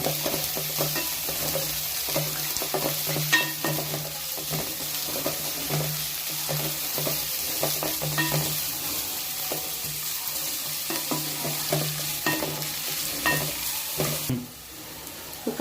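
Beans and carrots stir-fried for spicy Maggi masala, a steady close sizzle and frying hiss with repeated scraping stirs of a spoon in the pan, continuous throughout with no voices.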